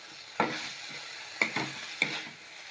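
Eggplant and okra sauté in oil in a pan, a soft continuous sizzle broken by three scraping stirs of a spoon, close and fairly loud.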